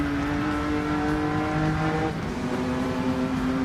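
Car engine in the racing game Project Motor Racing, a steady droning tone held at fairly constant revs with a slight pitch shift partway, moderately quiet and unbroken throughout.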